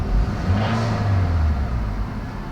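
A Toyota Corolla engine idles and revs briefly after starting with an ignition kill switch fitted, a low steady mechanical hum with a slight swell, heard close with no talking.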